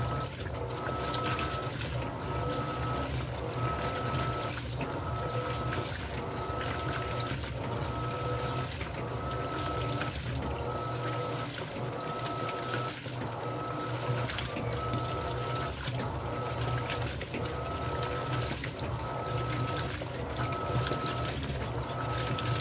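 An Electrolux LPR17 top-loading washing machine agitates a full load with little water, giving a continuous churning, sloshing water sound over a steady motor hum with a rhythmic back-and-forth pulse, heard up close.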